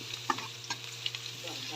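Onions sizzle and crackle in a hot pan as they are stirred and sautéed, with soft scraping strokes and a steady low hum running underneath.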